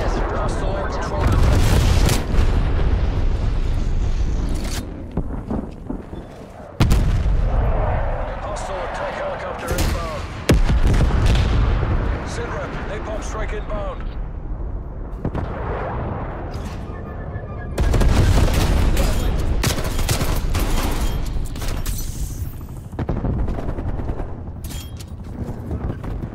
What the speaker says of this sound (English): Baker requesting napalm strike.